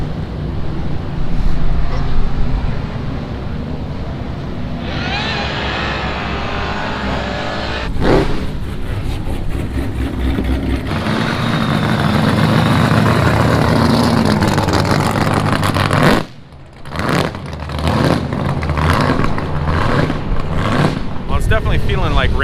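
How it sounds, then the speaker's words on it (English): Cars cruising past at a car meet, a continuous loud roar of engines and passing vehicles with swells as each goes by, briefly dipping near the end. "you can see the cruising session going on right now, all the cars going by"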